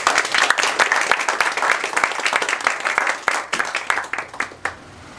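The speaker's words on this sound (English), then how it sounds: "A round of applause, please" A live show audience applauds, dense clapping sustained across the stretch before thinning and fading out near the end.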